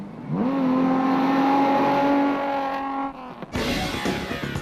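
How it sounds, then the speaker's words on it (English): Jaco Venter's Nissan rally car engine revs hard and steady at a Diamond Route 200 rally, a loud sustained drone that holds pitch before easing off, followed by a rougher burst of engine and road noise near the end. "the healthy-sounding Nissan of Jaco Venter, which was holding down 4th place in Class D"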